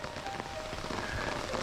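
Soft, steady patter of rain falling on a surface during a thunderstorm on Yen Tu Mountain, fairly quiet and continuous with no voices.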